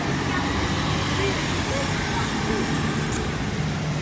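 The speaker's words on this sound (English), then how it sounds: "That's a bus." A bus passes loudly along a street during a morning walk, its engine and road noise making a steady, close roar that fills the whole stretch.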